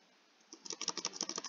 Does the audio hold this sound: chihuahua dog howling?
no